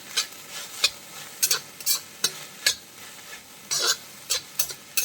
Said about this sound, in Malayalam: ഉപ്പിട്ടിട്ട് നമുക്ക് നന്നായിട്ടൊന്ന് ഇളക്കി കൊടുക്കാം.